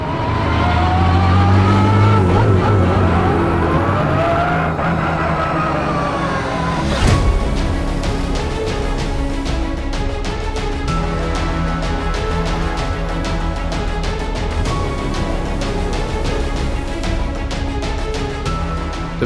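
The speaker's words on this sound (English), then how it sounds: "I put the ignition on and the engine is starting, vibration, everything is going up." A Porsche 911 Carrera Cup race car engine whines and revs, then catches with a sharp burst and settles into a loud, close, rapidly pulsing rumble that continues steadily.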